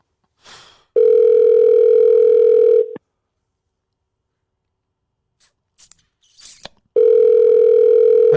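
Steady telephone dial tone on a radio call-in line, sounding loud and alone in two long stretches, with brief faint rustles and clicks in the silent gap between them.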